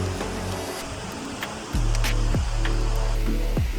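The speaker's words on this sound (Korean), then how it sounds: "정면 기준 우측은 대장부처럼 힘차게 물이 흘러내려 남폭, 왼쪽 폭포는 여인의 치맛자락에 떨어진다 해서 역폭이라고 합니다." Water pours steadily down the twin falls of Seoraksan's Cheonbuldong valley, a dense, continuous rushing roar close by that swells slightly partway through, with no voices.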